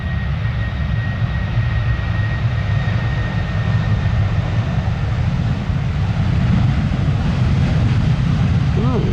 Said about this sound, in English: But off she goes, blasting down the runway.